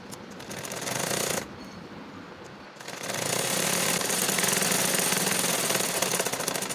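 A sewing machine stitching the folded head edge of fabric sleeves for a child's top, a loud close mechanical whir that pauses briefly, then resumes in a steady run.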